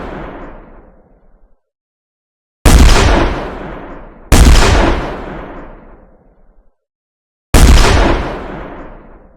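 Heavy first-person-shooter gunshot in an Unreal Engine game: three loud, isolated booming shots spaced a second or two apart, each with a sharp crack and a long decaying tail, the first preceded by a fading tail.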